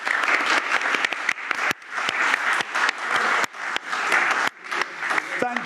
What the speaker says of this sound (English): Round of applause for Kate